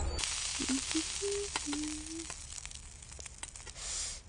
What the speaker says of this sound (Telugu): పూరీలు నూనెలోనే వేస్తారే, నీళ్లలో కాదు.